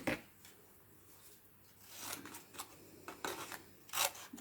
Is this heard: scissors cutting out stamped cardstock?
yes